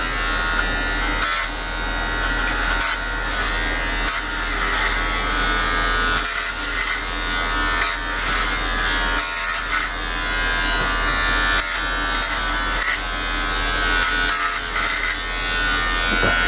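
An electric hair clipper from a clipper shaver set buzzes steadily and close up while cutting hair at the back of the neck during a home haircut, a continuous loud hum with slight changes in pitch.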